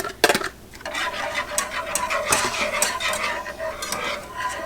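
A spoon stirs and mixes flan custard in a bowl or pan off the heat, a steady close scraping and clinking that runs continuously for several seconds with no talking.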